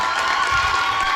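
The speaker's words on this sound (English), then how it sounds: "Give Chuck Huber a round of applause and blow him up later." A crowd of fans roars, cheers and claps for voice actor Chuck Huber, a dense continuous wall of noise in a large room with no gaps or single voices standing out.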